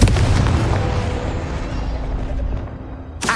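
A Confringo blasting spell detonates in Hogwarts Legacy, a loud, deep explosive boom that rumbles and decays over a few seconds before a second sharp burst at the end.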